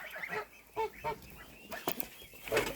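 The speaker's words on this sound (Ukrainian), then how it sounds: "о, вже гуси прийшли" Geese on a farmyard honking in short, nasal bursts, several calls overlapping at close range across a few seconds, fairly quiet overall with no talk.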